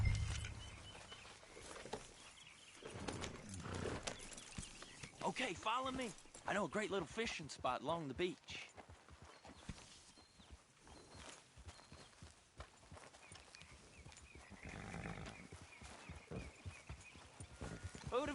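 Horse hooves clopping in the video game Red Dead Redemption 2 as riders set off toward the beach, rhythmic steps running under a character's speech and game music.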